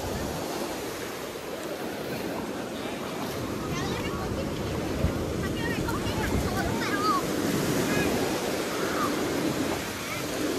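Surf rolls continuously on a crowded beach at Cam Binh, with a steady wash of waves and wind over a busy murmur of many distant voices.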